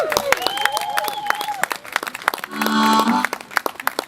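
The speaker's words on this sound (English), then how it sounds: "You can clap and cheer now just to get me all psyched up" A live audience breaks into applause and cheering at a performance, a steady swell of clapping from the crowd building toward the end, with scattered voices and a whistle-like tone mixed in.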